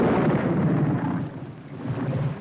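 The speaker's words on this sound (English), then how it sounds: "This is a storm indeed." Deep, rolling thunder rumbles steadily through a storm, loud and close with a long sustained roar that swells and eases slightly, no voices present.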